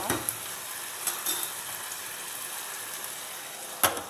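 Ginger chicken sizzles and fries in a pan with a steady crackle, broken by a few sharp clinks of stirring, including a louder knock near the end.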